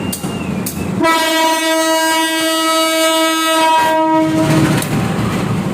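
A Logawa passenger train of stainless steel economy-class cars built by PT Inka rumbles along the rails while a loud, sustained horn blares for several seconds, then fades back into rolling track noise.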